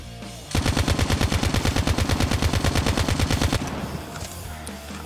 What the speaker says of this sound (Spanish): Una mediana distancia, apuntamos y mantenemos disparado.